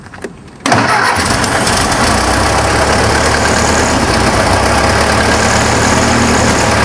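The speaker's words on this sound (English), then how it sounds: "this will get the engine to running" A 1923 Ford Model T Speedster engine cranks and catches abruptly, then settles into a loud, steady idle with a low rumble, close by and without talk.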